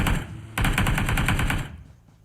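Automatic gunfire in a mobile shooter game played on an iPad Mini 5, a dense, rapid burst of shots lasting about a second, loud and close, with lighter firing just before it and the sound fading away after.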